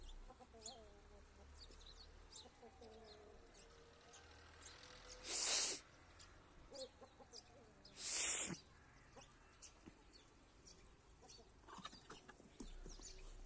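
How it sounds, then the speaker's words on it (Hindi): Chickens and roosters gathering to be fed flatbread, with faint scattered clucks and calls across a quiet outdoor scene, broken by two loud bursts of noise. "सबसे पहले देखो मुर्गों को बुलाता हूँ तो कैसे भागते हुए आ जाते हैं।"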